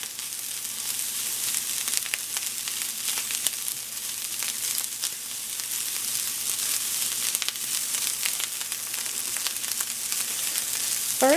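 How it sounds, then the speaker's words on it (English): Food is stirred in a T-fal Viva non-stick frying pan, a soft continuous sizzle with occasional light scraping clicks from the mixing, fairly quiet and without talking. "Just giving it another little mix."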